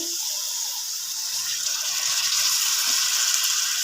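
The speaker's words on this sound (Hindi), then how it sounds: "अब जो चिकन हमने बॉईल किया था उसका पानी हम इसमें ऐड करेंगे," Boiled chicken stock poured into a pan of softening carrots for chicken macaroni, a steady close liquid gush with faint sizzle running throughout at an even level.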